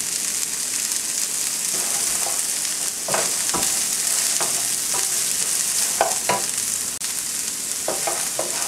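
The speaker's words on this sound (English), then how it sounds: "And keep stirring it." Green beans for a beans thoran being stirred in a frying pan, with a steady sizzle and irregular scraping clicks of the spoon against the pan, close and continuous with no talking.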